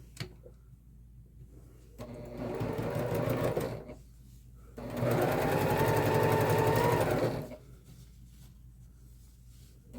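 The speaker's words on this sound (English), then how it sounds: "And we're going to sew 1/4 inch down." A sewing machine stitches a quarter-inch seam on a messenger bag pocket in two bursts, a shorter run and then a longer, louder one, each a close, steady mechanical whir with quiet gaps between.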